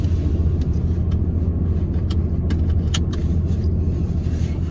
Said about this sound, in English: Taking my truck.